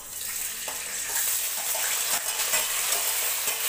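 Tomatoes, ginger and green chillies fry in hot oil for a dry potato and spinach dish, a loud continuous sizzle with occasional soft stirring clatters, close up and without speech.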